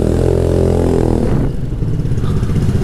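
A Scomadi Technica 200i scooter engine accelerates up a hill, a steady mid-pitched drone that shifts into rougher, throatier revving partway through, close and loud.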